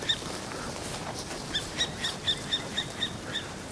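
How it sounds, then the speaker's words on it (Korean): A long-tailed owl calling in a Norwegian forest gives a string of short, high repeated notes, about eight evenly spaced calls over steady background hiss, moderately near and without speech. "새소리가 들린다."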